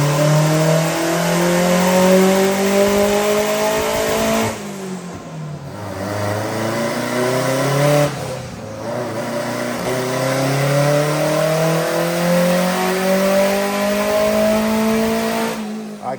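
Turbocharged sand car engine pulling hard through third gear, loud and close, with the pitch climbing steadily through repeated rising sweeps and brief dips between pulls, no voices over it.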